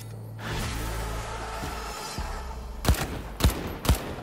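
Video game gunfire aimed at a cactus: three sharp, loud shots spaced about half a second apart, following a low mechanical hum.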